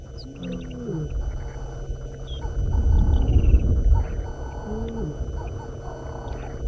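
A lioness calls on a sunset safari drive while searching for other members of her pride, her low, moaning roars swelling to a loud peak midway through a few seconds of bush ambience with faint bird calls.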